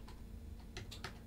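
Quick bursts of keystrokes on a computer keyboard at a hospitality EPOS till, a few faint taps near the end over a low steady hum.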